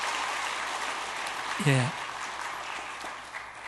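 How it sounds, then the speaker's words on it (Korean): A church congregation at a Sunday afternoon service applauds in a dense, sustained wash of clapping, with a man's short spoken reply briefly rising over it. "박수로 축복하겠습니다."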